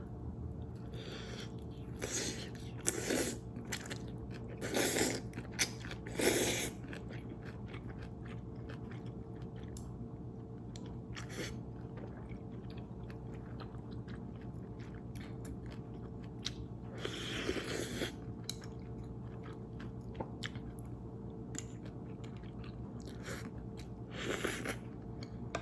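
Buldak Carbo fire noodles are chewed close to the mouth, with soft wet mastication and occasional louder bites recurring every few seconds over a faint steady background hum.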